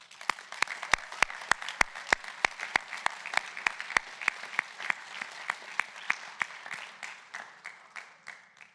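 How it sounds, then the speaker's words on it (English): Audience at a high school National Honor Society induction ceremony claps for new members: sparse, sharp individual claps at first, quickly filling into steady room applause that thins slightly toward the end, with no talk. "please join me once again in applauding all of our new Honor Society members"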